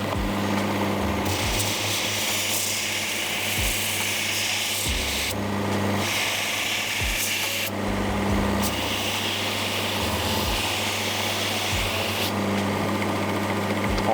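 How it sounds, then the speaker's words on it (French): Water-cooled grinding wheel sharpening a thin knife blade, a steady motor hum with a harsh grinding hiss that swells and drops as the blade is passed over again and again, with voices heard now and then. "On peut utiliser cette meule pour des affûtages minutes ou c'est de lames très fines parce qu'elle fonctionne à froid."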